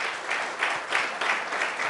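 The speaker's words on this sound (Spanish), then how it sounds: "denle un aplauso al Señor por la vida de él" A church congregation applauds during a Spanish-language service, a short stretch of steady, fairly close clapping with a few surging pulses.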